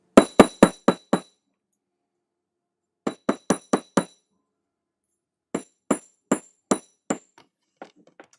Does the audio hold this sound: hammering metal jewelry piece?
yes